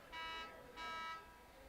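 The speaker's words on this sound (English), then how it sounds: "And the scoreboard gives a little beep at the" A scoreboard at a high school soccer field gives two short, even electronic beeps about half a second apart, faint and carried over open-air background noise, with no talk.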